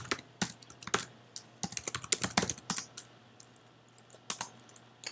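Fast, close computer keyboard typing while setting up an Express project, with irregular clusters of clicking keystrokes and brief pauses, no voice.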